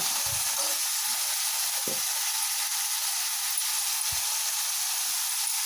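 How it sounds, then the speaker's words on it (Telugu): A green chili fries with salt in a pan, giving a steady close hiss of sizzling oil, with a few soft low knocks of a utensil against the pan and no talking. "ఒక్క పచ్చిమిరకాయ కోసేసి ఇలా సాల్ట్ వేసి ఫ్రై చేస్తున్నాను అన్నమాట"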